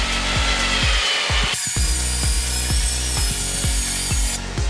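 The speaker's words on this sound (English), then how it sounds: "use 120 grit sandpaper to sand your PVC like so" Steady whirring of a drill spinning a PVC pipe with a rough, continuous rasp of 120 grit sandpaper, rhythmic low thumps repeating throughout, loud and close.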